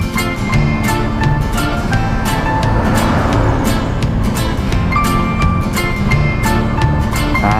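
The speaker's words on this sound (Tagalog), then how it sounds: "Traffic. Heavy traffic." Heavy road traffic heard from inside a moving vehicle, a steady loud engine and road rumble with tonal whine and repeated ticking clicks throughout.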